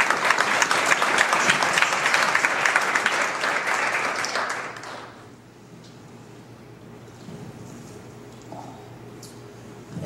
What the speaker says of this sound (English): let's give all of our sponsors a round of applause